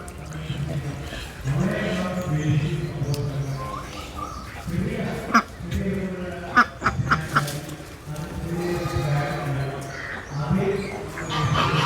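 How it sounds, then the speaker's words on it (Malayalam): Ducks, including a crested breed, quack repeatedly at close range on a mixed farm, a few sharp calls standing out, while a person talks over them. "ഒരുപാട് താറാവുകളുണ്ട് എന്നുണ്ട് ഒരു ക്യാപ്പുള്ള താറാവ്"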